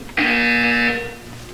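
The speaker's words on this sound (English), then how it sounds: "When you hear the buzzer, look up at the ceiling." A loud, flat electronic buzzer from the video game Portal 2 blares as a single steady tone for under a second, then cuts off and leaves quiet room tone.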